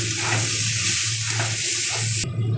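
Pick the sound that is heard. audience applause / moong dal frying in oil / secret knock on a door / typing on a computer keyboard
moong dal frying in oil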